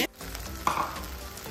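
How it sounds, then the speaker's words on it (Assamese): Shewali flower leaves fry in hot oil in a pan with a steady loud sizzle and crackle, swelling briefly as they are stirred or moved. "এইখিনি শেৱালি ফুলৰ পাতটো ভাজি এই টেৱাখনত দি দিছোঁ তেলত খুব মচমচীয়া হয়"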